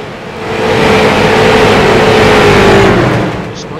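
Street stock cars race around Charlotte in iRacing, engines droning loud and steady with a rising whine as they pass close, holding for several seconds before easing off at the end.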